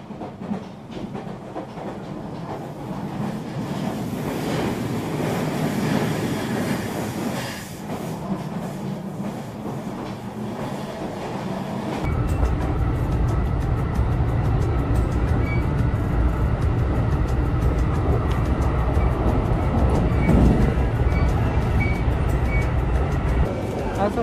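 A train runs along the railway in rainy weather, a steady rumbling roar that grows louder and denser about halfway through as it passes close, with faint rhythmic clatter and outdoor background noise.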